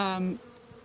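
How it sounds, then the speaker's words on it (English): A bee buzzes close to the microphone near a cob hive, a brief droning hum that fades after a moment into quiet background hiss. "I've been around these buzzing bees. They've been all around my face and me"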